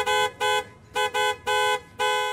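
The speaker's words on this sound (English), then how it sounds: "Cars honked in support as demonstrators gathered in front of the Diocese of Covington" A car horn honks in a series of short repeated blasts, about five toots in quick rhythm, loud and close.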